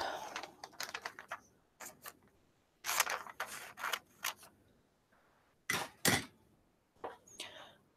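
Scissors snip through a flexible silicone cabochon mold to cut it in half, producing a series of sharp, close crunching cuts in irregular bursts with quiet pauses between them.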